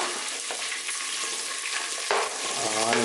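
Large onions frying in a pan for chicken sukka, a loud close continuous sizzle with a brief stirring scrape partway through.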